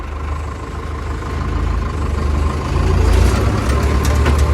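Tractor engine idles and runs out in a field, a steady low diesel rumble with exhaust throb that swells slightly louder toward the end, close and continuous with no talk.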